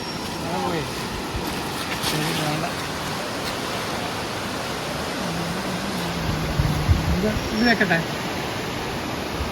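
A river at Mayiladippalam, on the way to Elival village, rushes steadily in a continuous broadband wash of flowing water, with voices faintly audible beneath it.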